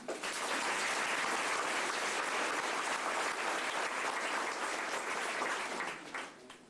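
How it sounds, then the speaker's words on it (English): An audience at a 1999 high school sports banquet gives a dense, sustained burst of applause, a thick wash of clapping that stays even for about six seconds and then tapers off. "Seniors, if I can ask, if you can give them a hand of applause, please"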